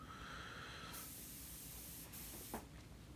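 Spray gun with a 1.3 setup at 2 bar laying a light but wet coat of water-based base coat onto a car panel, a steady close hiss that cuts off partway and returns in brief bursts.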